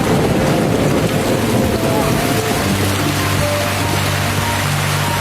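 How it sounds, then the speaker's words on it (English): Heavy rain pours steadily in a dense hiss, with a low rumble underneath, loud and unbroken. "Just then, rain suddenly poured down from above."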